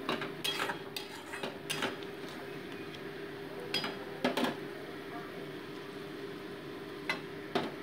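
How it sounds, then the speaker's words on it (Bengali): Spoon stirring tomato into a fish gravy in a pan, scattered light metallic clinks and scrapes against the pan amid a soft steady background hiss. "দিয়ে ভালো করে ঝোলের মধ্যে মিশিয়ে নিচ্ছি টমেটোটাকে।"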